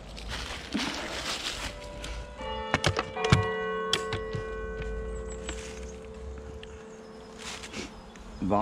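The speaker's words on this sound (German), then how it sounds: "Wahnsinns großes Bienenvolk." A large honeybee colony hums inside a wooden hive box during a February winter inspection. The dense buzzing drone is close and continuous, with occasional knocks and scraping from the hive being handled.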